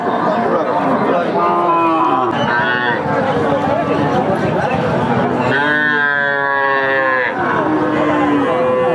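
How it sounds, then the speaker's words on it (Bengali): Cattle at a market where a bony, underweight cow is offered with her young heifer calf; repeated low moos ring out clearly amid a busy crowd, with people talking throughout. "এইদিকে দেখতে পাচ্ছেন একটা হাড্ডি গাবি শুকনো হাড্ডি সারের সাথে একটা বাছুর"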